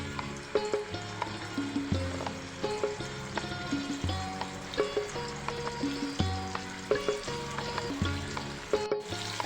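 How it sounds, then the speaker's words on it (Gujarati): Paneer frying in hot oil sizzles steadily for the whole stretch, mixed under a rhythmic musical background with repeating notes. "હવે આપણે આને શેકી લઈશું પનીરને તેના માટે એના માટે તેલ ગરમ કરવા મૂક્યું છે અને આવી રીતના આપણે પનીર મૂકી દઈશું"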